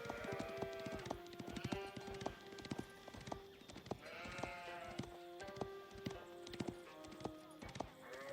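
Sheep bleats from Age of Empires gameplay, several overlapping wavering cries amid a busy mix of clip-clop hoof sounds and game effects, with a voice talking underneath.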